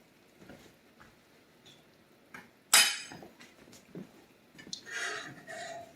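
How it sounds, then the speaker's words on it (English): A sugary spoon from a caramel pan is set into a kitchen sink with a single bright metallic clink, surrounded by faint scattered kitchen clatter at close range. "I'm taking this spoon out and I'm putting it in the sink"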